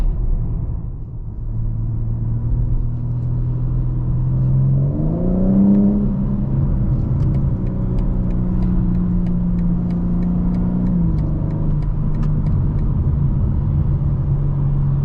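Deep engine rumble from a 2022 BMW M4 Competition coupe on the road, with the revs climbing and easing through a shift, road noise steady underneath and no one talking.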